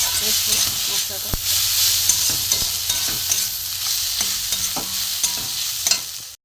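Ghugni spice paste with green chilli, red chilli powder and grated ginger sautéing in a pan, a steady loud sizzle broken by repeated scraping stirs and a sharp clink near the start.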